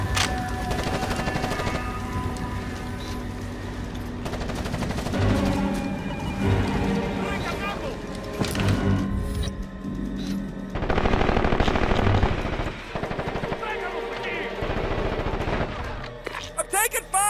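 Sustained bursts of automatic gunfire from the Xbox shooter Ghost Recon Advanced Warfighter, loud and dense with overlapping machine-gun rattles and impacts, with game voices calling out under the barrage and a brief lull near the end.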